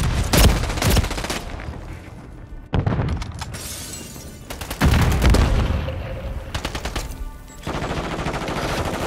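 Gunfire from the video game Call of Duty rattles in loud, close bursts of automatic fire, separated by brief pauses and heavy shot impacts.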